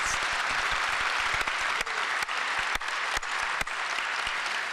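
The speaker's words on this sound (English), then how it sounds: "AFN is clapping for you" Delegates at the Alaska Federation of Natives convention applauding, a sustained, even roar of clapping across a large hall with a few sharper claps standing out.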